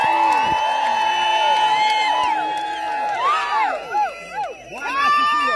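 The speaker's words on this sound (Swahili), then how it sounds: "Pigieni Reverend Maina wa ofisi makofi." A church congregation cheers loudly together, with overlapping whoops and high sustained voices rising and falling for several seconds; separate clapping is not clearly picked out.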